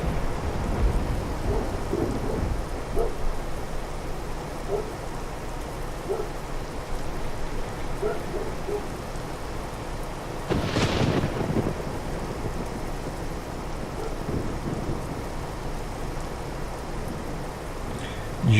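Steady rain and a distinct thunder crack partway through in the Euro Truck Simulator 2 video game while driving through rainy England, with constant patter and no voices.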